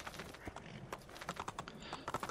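Horse hooves clip-clop in the video game Assassin's Creed II as a grey mount sets off, a quick, faint, steady patter of footfalls with no talk.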